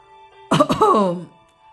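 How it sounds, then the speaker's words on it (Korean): One loud, deliberate throat clearing, a gruff voiced "ahem" lasting under a second, close up, against otherwise quiet background. "황새는 헛기침을 크게 하고는 이렇게 말했어요."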